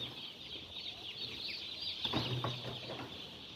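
A dense chorus of 6,700 newly arrived chicks on a poultry farm peeps continuously. The high chirping overlaps with scattered nearer calls and stays at an even level throughout.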